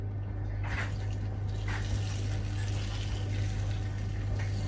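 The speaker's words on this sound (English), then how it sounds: "Now, this could be a bit risky because I'm basically pouring hot oil" Hot oil poured over chicken legs in a tin filled with cold water while cooking honey and mustard glazed chicken; a steady hissing, bubbling wash with a few brief splashy bursts, fairly close, with no talking.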